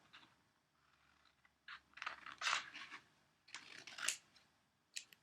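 Scissors snip through folded paper around a triangle shape in a few short crisp bursts, close and quiet, with pauses between cuts and one last brief snip.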